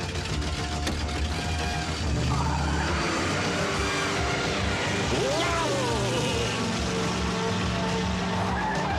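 A car pulls away with tires squealing and the engine revving as it speeds off, loud and close, with a brief skid partway through and background voices underneath.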